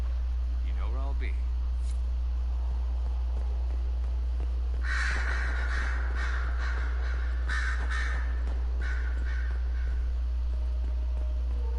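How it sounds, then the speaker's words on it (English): Crows caw in the game Dragon Age Inquisition, a cluster of harsh calls midway over a steady low hum, with a brief voice sound near the start. "I hate crows"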